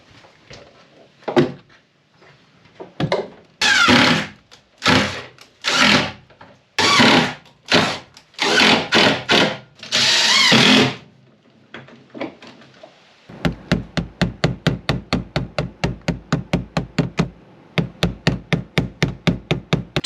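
Power drill driving screws into the floor of an abandoned GMC motorhome being rebuilt: several close, loud whirring bursts, then a long run of rapid, evenly spaced rhythmic clicks.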